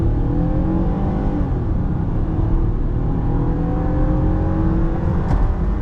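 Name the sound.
2009 Toyota Camry XLE V6 engine revving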